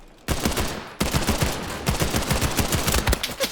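Rapid automatic gunfire in a World War II video game crackles in continuous bursts, loud and close, with a brief pause near the start before the shooting resumes and keeps going.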